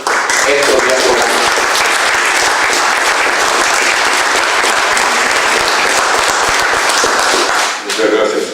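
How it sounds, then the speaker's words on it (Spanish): An audience at a community round-table event breaks into loud, sustained applause for a speaker, a dense continuous wash of clapping that fades briefly near the end. "Un aplauso para el compañero Héctor Díaz Polanco."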